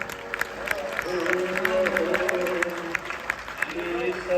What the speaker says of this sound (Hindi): तालियां कम है।